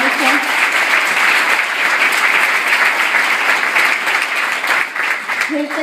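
Sustained audience applause fills a seminar hall in Las Vegas, steady and dense throughout with brief vocal sounds near the start and end.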